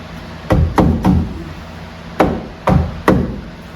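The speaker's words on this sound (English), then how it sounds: "And then I'm going to tap it up with my hammer." A hammer taps a headliner prong into a 1960s Cadillac, giving six sharp knocks close up: three quick ones, a pause, then three more, each with a short ringing decay.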